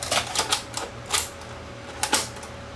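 A tape is loaded into a Sony DNW-7 Betacam SX camera, giving a string of sharp mechanical clicks and clacks in uneven bursts over a low steady hum, close up.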